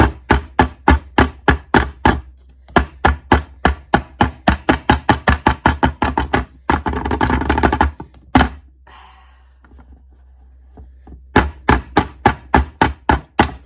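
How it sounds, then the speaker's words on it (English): A bundt pan filled with lemon pound cake batter is tapped hard on a counter, giving loud, rapid rhythmic thunks in two bursts with a short pause between them. "Don't be shy, just tap that pan."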